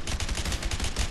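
Rapid automatic gunfire in the video game A Way Out, a steady stream of around ten closely spaced loud shots with heavy low thumps, alone with no talk.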